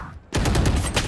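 Gunfire in the video game Valorant, a loud rapid burst of shots starting abruptly after a brief quiet moment and sustained to the end.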